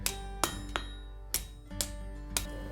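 Blacksmith hammers a metal leaf on an anvil, with five or six sharp ringing strikes at uneven intervals, each leaving a bright sustained metallic tone, close and clear.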